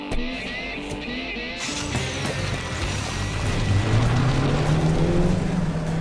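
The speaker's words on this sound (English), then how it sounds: "There's that nice sound coming through that thing that Ford calls the sound symposer. Just a nice little tight engine note, nothing raspy, nothing intrusive" A 2014 Ford Fiesta ST engine note piped into the cabin through its sound symposer, a steady, rising hum that climbs gradually in pitch as the car accelerates, smooth and tight rather than raspy, with no talking.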